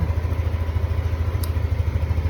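A repaired motorcycle engine runs steadily at idle, a low pulsing rumble with a fast even beat, close and continuous, with a brief faint click partway through.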